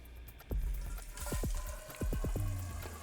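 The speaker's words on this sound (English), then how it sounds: "You can see the water entering the device and lifting up the float." Water flowing into a pipe and lower chamber of a Val-Matic Floodsafe device, lifting its float, with hollow gurgling bubbles that burst in short clusters over a low rushing fill.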